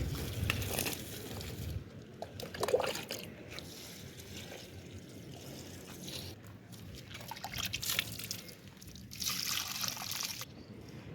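Water poured from a vessel onto potted plants on a rooftop, a steady trickling and splashing that continues with small surges and drips throughout, close by and moderately loud.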